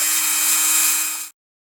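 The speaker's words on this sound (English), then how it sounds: "I'm going to just try and drill a little bit." Small power drill boring out a rivet on a Matchbox Foden cement mixer die-cast toy, one steady high whine lasting just over a second before it cuts off abruptly.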